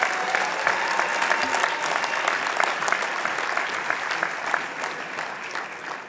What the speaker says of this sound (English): please give a round of applause for the graduates from the Graphic Design program